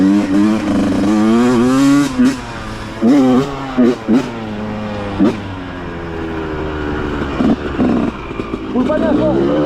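Dirt bike motorcycle on an MX ride, its engine revving in rising and falling pulls, fairly close and loud, with a person's voice talking over parts of it.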